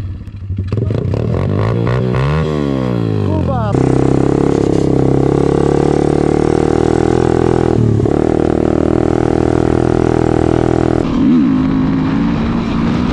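An enduro motorcycle's engine revs up and holds loud, close and steady, with pitch sweeps and a gear-like shift in tone; heavy wind or rain noise accompanies it.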